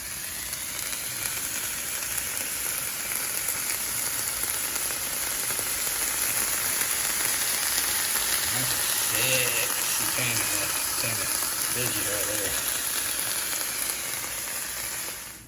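Vegetables frying in a pan on a stovetop for a cowboy roll give a steady, close hiss and sizzle. A few low knocks from the pan or utensils come through partway in.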